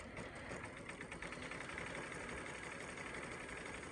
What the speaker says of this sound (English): when it finishes a letter, it's going to go ahead and trim the thread, and then the foot kicks the thread out